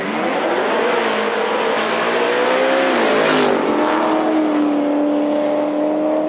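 Street-class cars drag racing at Knoxville Dragway, a loud continuous engine roar that climbs in pitch, dips at a gear change around the midpoint, then holds a steady high drone.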